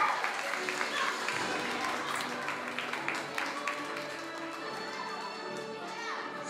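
Audience applause and cheering at a school graduation party at Colegio La Merced for a sixth-grade class, steady crowd clapping throughout with children's voices mixed in.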